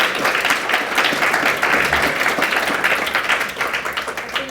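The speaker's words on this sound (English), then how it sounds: "I think that deserves a round of applause for Joy Carson's shortbread." An audience at a book-launch celebration claps warmly for a few seconds, a dense, fairly close wash of hands that eases slightly toward the end.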